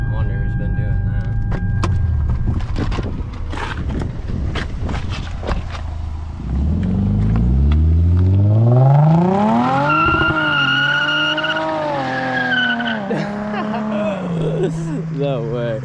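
A Lexus IS350 engine roars close by through an aftermarket exhaust, climbing steeply in pitch through a hard rev, then revving up and down with a loud, throaty exhaust note.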